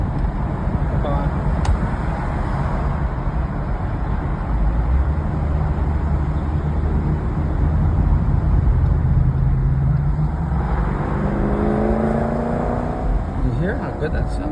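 A car engine revs and roars close by in a long, loud, sustained burst, its pitch climbing and swelling toward the end, with voices speaking over it.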